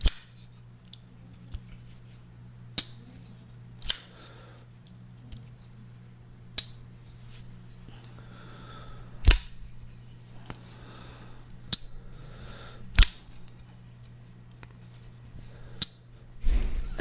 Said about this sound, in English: And it really doesn't have the rattle so much, so sometimes you'll hear it, but most of the time you don't.